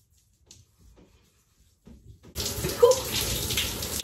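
Cold water gushing from a bathroom tap during an evening skincare routine, starting abruptly after a few faint taps and rustles and running steadily and fairly loud to the end, with a brief voice exclamation over it.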